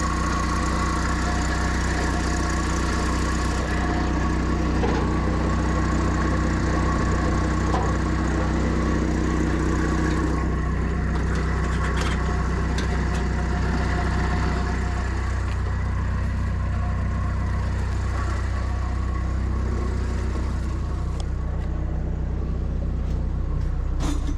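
A GAZ-69 engine runs steadily while the vehicle reverses, a loud, continuous mid-range drone lasting throughout with slight shifts in tone and no talk over it.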